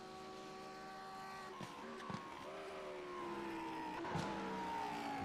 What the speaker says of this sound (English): You can hear the car popping and banging on.